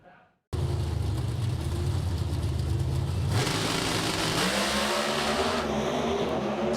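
NHRA drag racing cars accelerating down the strip at the Winternationals, a sudden loud engine roar that cuts in after a brief quiet moment and holds steady, rising in pitch as the cars run toward the top end.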